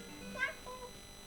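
A cat gives one short, faint meow that rises and then falls, lasting about a second, heard alone against a quiet background.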